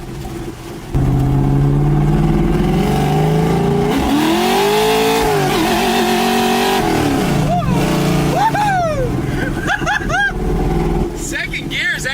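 A car engine revs hard and repeatedly while the clutch is broken in over many clutch cycles, loud and close, the pitch rising and falling in surges as someone talks over it.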